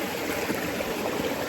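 Water in a river in Portland, Jamaica, flows in a steady, close, broadband rush that stays even throughout, with no talking.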